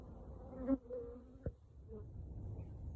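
Bees buzz around beehives while wasps get into the hives, a soft, close humming with individual insects droning past in brief louder swells against a quiet background.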